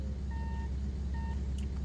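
Vehicle reversing beeps in a video game, two short electronic tones about a second apart, heard faintly over a loud, constant rumbling engine and background noise.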